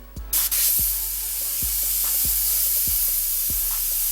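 An airbrush sprays red paint in a continuous, loud, airy hiss, broken by regular soft clicks about every half second as the trigger works.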